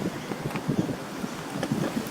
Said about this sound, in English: hopefully it's not too windy, it's a bit blowy today